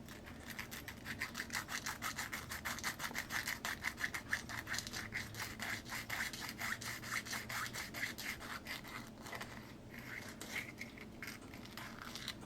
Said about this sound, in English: all I'm going to try and do here is just get rid of some of the burrs along the side